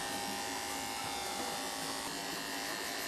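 An Andis hair clipper buzzes steadily and close while cutting hair during a fade, a continuous electric drone with no pauses.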